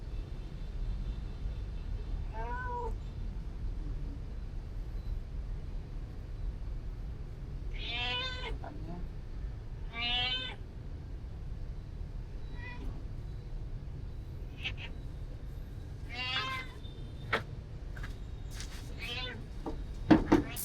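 An old cat meows several times on a rooftop, short and moderately close, spaced apart over a steady low outdoor hum with a distant vehicle passing.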